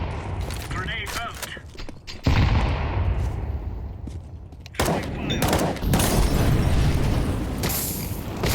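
A grenade blast in a first-person shooter video game: loud, dense booming bursts with crackling gunfire around them, two heavy impacts in quick succession, while players talk over the action.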